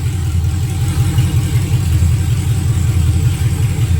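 An engine idles on its very first start with headers burning off, a loud, steady low rumble with slight pulsing and no talk over it.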